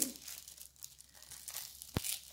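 Soft, quiet tearing and crinkling of thin tissue paper, a few brief rips close by in near silence.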